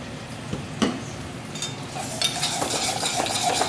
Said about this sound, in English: We don't want to cook the apples too much. We just want to mix it.